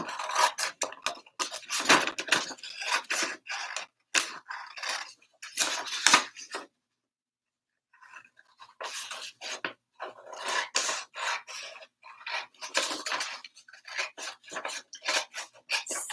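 Scissors snip through paper to cut out a signature, a run of quick crisp rasping cuts in bursts, a pause of about two seconds, then more snipping, close up with no talking.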